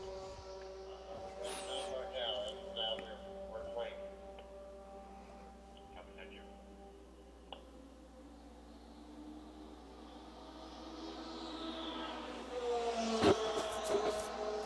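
Historic GT and GTP race cars in an enduro at Indianapolis Motor Speedway, their engines droning and whining at a distance, a pass swelling louder near the end, with an announcer talking over it.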